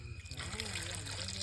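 Water is poured from a vessel into a cooking pot in an outdoor village kitchen while a brinjal curry is being made, a steady close trickle and splash running under a low background hum.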